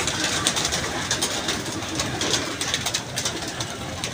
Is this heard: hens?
no